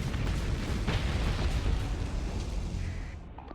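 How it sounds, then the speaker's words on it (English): Torpedoes slam into ships in the space combat game Starsector, a continuous roar of deep rumbling explosions with scattered bursts that fades slightly toward the end. "Torpedoes coming in."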